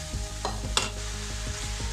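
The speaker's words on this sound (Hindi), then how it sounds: "फिर इसके बाद आप इसमें ये सारा ये चिकन डाल दें।" Chicken sizzling with tomatoes in a karahi, a steady close frying hiss broken by rhythmic scraping stirs and one sharp clank, no voices.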